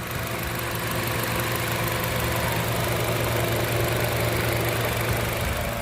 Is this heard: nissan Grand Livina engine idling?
yes